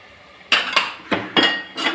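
Metal spoon scraping and clinking against a pot while stirring kara kuzhambu, a Tamil curry with brinjal and field beans; four or five sharp, close clanks in an irregular rhythm over quiet background, no voices.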